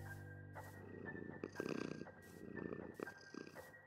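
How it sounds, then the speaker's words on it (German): Cat purring in a video game, a low, rough, rhythmic rumble repeating in short pulses, faint and close, with light game sounds around it. "Hört ihr das? Sie schnurrt."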